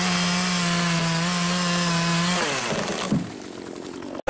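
A Poulan chainsaw, stored eight years in a barn, runs loud and close with a steady buzzing drone, then its pitch sags and the engine winds down to a rougher fading idle before cutting off.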